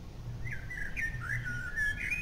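Birds in the video game Undertale chirp softly in a short, faint run of high, wavering whistled notes over a low background hum.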